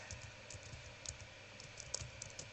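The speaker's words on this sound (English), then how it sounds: "I'm going to type in Ebenezer" Name typed on a computer keyboard, faint rapid key taps in an uneven stream over a steady background hum, close by with no talking.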